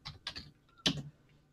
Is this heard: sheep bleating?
no